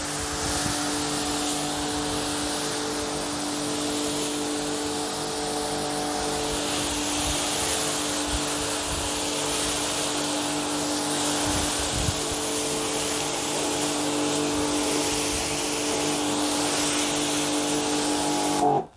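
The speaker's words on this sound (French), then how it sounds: "Allez, je rince le véhicule et on se retrouve tout de suite." A car is rinsed from the roof down with a wide spray nozzle before a ceramic coating, a steady loud hissing spray over a constant machine hum, ending abruptly.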